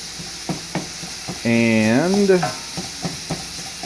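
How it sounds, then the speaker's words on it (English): Chorizo spiced pork sausage sizzles and is stirred in a pan with a steady frying hiss and clinking stirs, while someone talks over it. "So what you see on the video right now, I'm cooking up is chorizo."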